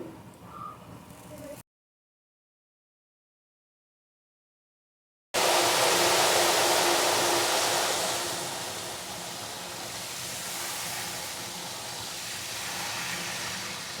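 Salt water hits hot oil frying nendran banana chips in a sudden loud, roaring hiss of steam that holds strong and then settles into a steady sizzle, after a short quiet stretch.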